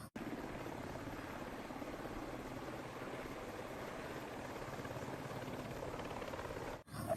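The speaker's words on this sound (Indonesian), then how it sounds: "Yang ini helikopter." A toy helicopter, one of a set of toy vehicles, makes a steady loud whirring rotor drone with fast chopping pulses that runs evenly for about seven seconds, then cuts off abruptly with no talk.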